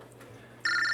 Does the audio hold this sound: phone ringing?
yes